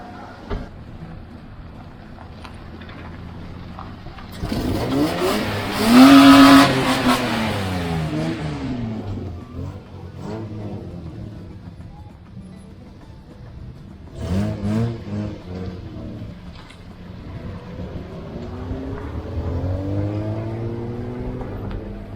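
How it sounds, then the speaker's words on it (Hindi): A stunt car parked by a petrol station in Saudi Arabia revs and accelerates in a loud surging burst, then fades and returns in a second, weaker surge, with engine roar rising and falling against outdoor background noise. "यही है वो स्टंटबाजी वाली गाड़ी, इस पे स्टंट वगैरह करते रहते हैं।"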